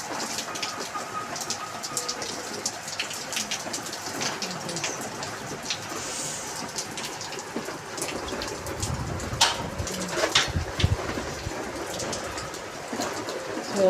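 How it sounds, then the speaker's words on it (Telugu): Heavy rain pours steadily with strong wind, a dense close hiss of drops striking surfaces, with occasional louder splashes and thumps breaking through the constant downpour. "ఎంత వర్షం పడుతుందో"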